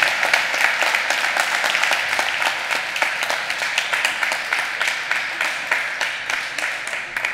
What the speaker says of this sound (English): I see a very vigorous applause